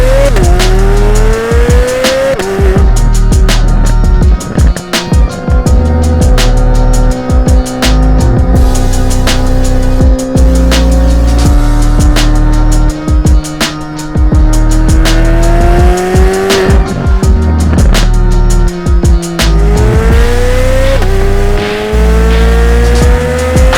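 A 2023 Corvette Z06 with a flat-plane-crank V8 revs hard and accelerates through repeated gear changes, its rising engine note loud and close throughout, with brief tire squeal and no talking.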